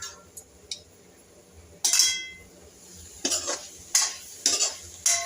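A lid lifts off a pot of cabbage cooking over low heat, followed by a few metallic clinks and scrapes of a utensil against the pan, heard close and alone without talk.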